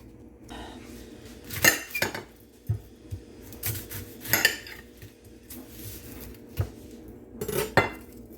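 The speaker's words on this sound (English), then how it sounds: "Now I gotta cut up my onion." Knife chopping an onion on a cutting board in a home kitchen, a series of irregular close knocks and scrapes of blade on board with occasional clattering of utensils.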